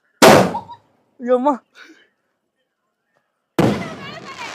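Sivakasi firecrackers bang sharply, with one loud burst near the start and another after a pause, while a person's voice is heard between them.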